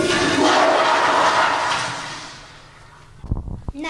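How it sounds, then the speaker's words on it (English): A toilet flushes in a restroom with a loud rushing swell of water that fades over a few seconds, followed by brief clunks and rattles as it settles. "The second rule is flush."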